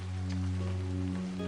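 Rain falling on a tent at night, a steady soft patter with a low sustained hum underneath, continuous and even throughout.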